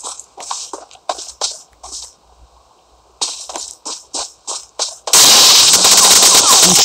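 PUBG Mobile gunfire: a run of sharp single shots in uneven bursts, a short pause, another quick volley, then a loud dense blast of sustained fire closing it out, all without talk.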